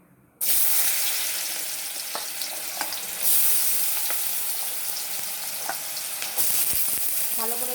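Small chopped potatoes drop into a hot kadai with a sudden loud sizzle that stays steady and close. Fresh bursts of hissing come as the pieces are stirred, with a few faint clinks.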